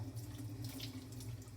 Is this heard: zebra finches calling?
no